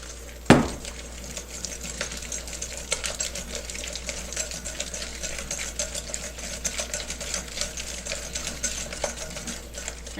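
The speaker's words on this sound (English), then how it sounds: "We're going to whisk this together" A whisk stirs chocolate chips into hot brewed coffee for mini chocolate ganache cupcakes, giving a steady, rapid scraping and clinking against the bowl that runs throughout, with one sharp knock near the start.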